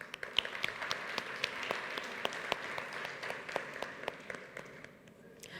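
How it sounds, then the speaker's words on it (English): An audience at a health-tech pitch competition at the Webit Global Impact Forum 2022 gives a presenter a round of applause: many hands clapping at a distance, fairly faint, tapering off toward the end. "Let's give him a big round of applause,"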